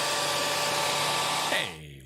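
A hair dryer runs on high with a loud steady whooshing blow, then cuts off and spins down over the last half second.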